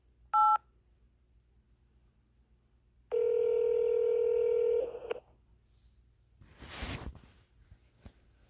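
Telephone keypad tones sound while navigating an auction house's phone menu: a short beep, then a longer steady tone held for almost two seconds, followed by a soft rustle and a faint click.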